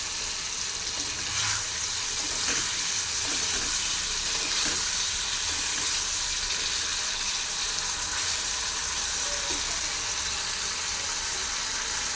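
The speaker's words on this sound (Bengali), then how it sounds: "তেল গরম হয়ে গেছে, তেলটা গরম হয়ে গেছে। এবার দিয়ে দেবো চিংড়ি মাছটা, দিয়ে দিলাম।" Shrimp hit hot oil in a wok and sizzle in a steady, broad hiss that runs continuously, with a few faint clinks and stirs scattered through it.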